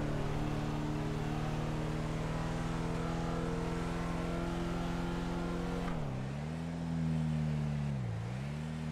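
A truck engine droning in GTA 5 heard from first person, with a steady low harmonic hum that dips and shifts pitch twice near the end as the truck changes speed.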